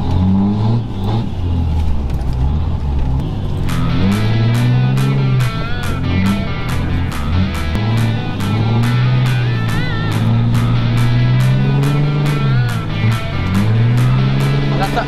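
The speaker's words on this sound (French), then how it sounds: "Je me fais une mini session drift, tu vois." Car engine revving hard and dropping during a drift session in a dirt field, a loud sustained roar with rising and falling pitch and rhythmic bursts throughout, close to the car.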